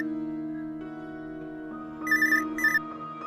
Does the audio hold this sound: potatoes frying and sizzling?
no